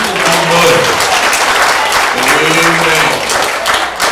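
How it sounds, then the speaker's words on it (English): A church congregation applauding loudly for a prophetess, steady dense clapping across the whole stretch with crowd noise and voices mixed underneath. "Clap your hands for Prophetess and people from mother."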